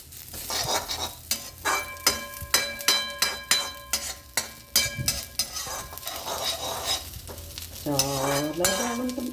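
Ingredients for mint powder are dry-roasted in a pan and stirred, making repeated sharp scraping and clinking strokes of the spatula against the metal over a soft sizzle. A short tonal sweep rises near the end.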